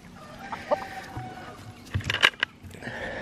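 Meat bird chickens cluck in short, scattered bursts that sound fairly near, with a brief busier flurry of calls toward the end over quiet background.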